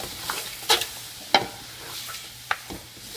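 Pork feet being stirred into caramel sauce in a pan during Cambodian village cooking, with a soft background sizzle broken by a few sharp utensil scrapes and clinks.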